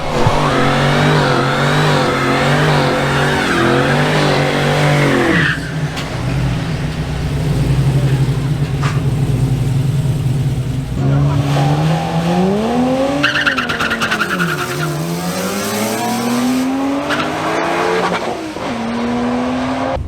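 A drag race car launches from the line at a drag strip, its engine revving hard with rising and falling pitch and tires scrabbling, loud and close with no talking.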